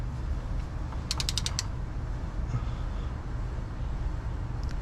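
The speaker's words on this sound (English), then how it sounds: "Let's torque this thing down." A wrench ratchets in one quick run of about six clicks while a bolt is torqued down on an 800hp supercharged Hemi racecar. The clicks are crisp and close over a steady low background.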